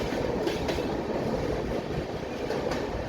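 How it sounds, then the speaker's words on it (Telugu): A train rumbles steadily along the rails on the Araku Valley line, a continuous loud roar with faint rhythmic clatter, enclosed and echoing inside a tunnel. "టన్నల్ మధ్యలోంచి అసలు ట్రైన్ వెళ్తుంటే"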